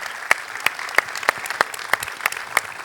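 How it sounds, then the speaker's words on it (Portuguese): A crowd claps for an archpriest at the opening of a church gathering, a dense patter of many hands at moderate distance, punctuated by a few louder, evenly spaced sharp claps, with no talking over it. "o padre António Sérgio, que é o nosso arcipreste, para quem eu peço uma salva de palmas."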